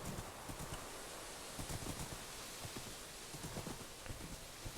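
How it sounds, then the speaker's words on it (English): Video-game horse trotting, a faint steady clip-clop of hooves repeating at an even pace over soft background hiss, with no talk. "This horse is slower than I would like it to be."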